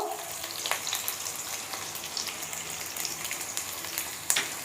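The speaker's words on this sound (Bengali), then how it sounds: "এর সাথে আমি পটলটাও দিয়ে দেবো, দিয়ে 2 মিনিট আমি এটাকে ভেজে নেব" Potatoes and pointed gourd fry in a pan, giving a steady close sizzle with occasional sharper crackles and stirring clinks.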